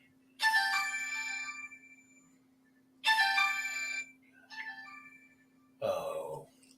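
A mobile phone ringtone plays in three bursts of bright melodic tones with gaps between, followed by a short noisy sound, over a faint steady hum.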